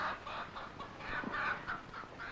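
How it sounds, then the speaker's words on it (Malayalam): Chicken clucking in a repeated, moderately loud series of short calls, with a few brief rises and pauses between them. "ഇത് കൊക്കല്ല, കോഴിയാണ്"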